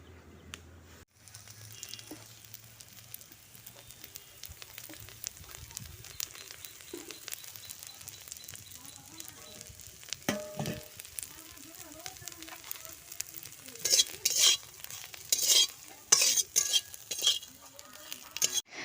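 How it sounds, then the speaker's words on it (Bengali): Soft, steady sizzling of neem leaves frying in a pan over low heat, with scraping and clinking from stirring, growing louder and busier toward the end, while someone talks. "পাতাগুলো দেখতে পাচ্ছ ভাজা হচ্ছে আমি কম কম করে ভেজে নিচ্ছি"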